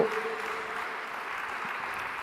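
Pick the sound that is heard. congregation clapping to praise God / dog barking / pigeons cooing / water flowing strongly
congregation clapping to praise God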